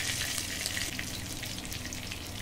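Mustard oil heats in a pan right after prawns were fried in it, giving a steady, dense frying sizzle and hiss that holds evenly throughout without pause.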